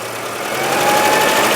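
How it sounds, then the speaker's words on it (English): A car engine rises gently from idle to slightly higher revs with the headlights on, a steady close mechanical hum building in loudness over about a second and a half, with no talk. "But a gentle raising of the revs,"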